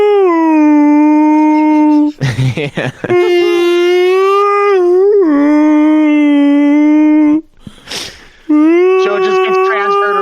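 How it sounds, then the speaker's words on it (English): A loud, close howl from a wolf character in The Legend of Zelda: Twilight Princess carries melodic wavering notes across several long phrases, broken by short gaps with a brief voice between them. "Most of the wolf howl songs in that game are just songs from Ocarina of Time"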